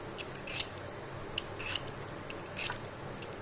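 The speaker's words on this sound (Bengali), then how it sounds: "গ্রেটার দিয়ে এভাবে আঁচড়ে আঁচড়ে আমি গাটা পরিষ্কার করে দিচ্ছি" A hand grater scrapes skin off food in short, quiet strokes, giving light rasping scratches in an uneven rhythm against a soft background hiss.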